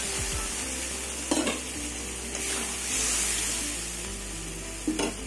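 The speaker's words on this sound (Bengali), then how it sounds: "এবার ঢেকে ঢেকে কষিয়ে নেবো ভালো করে।" Ground cumin, coriander, chili powder and turmeric sizzle steadily with a splash of water in a pan for a rohu fish curry with pointed gourd and potato, with a few sharp utensil scrapes and clinks close by.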